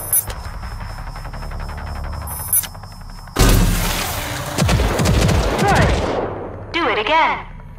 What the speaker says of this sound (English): the smart rocket launcher can lock onto a target and fire multiple